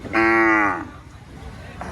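A single loud, close cow moo lasting about half a second at a cattle market in Rustampur, Rajshahi, followed by faint background chatter and the start of another call.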